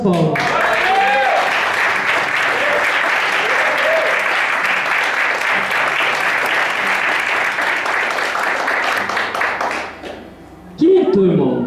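Church congregation clapping in worship, a dense sustained round of applause lasting about ten seconds before fading, with a preacher's voice resuming afterward.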